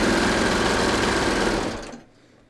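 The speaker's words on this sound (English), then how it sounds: "If you're sewing on your serger, just triple zigzag right along the edge." A serger stitches elastic onto a pants waistline, a fast close mechanical whirring chatter running steadily for about two seconds before winding down and stopping.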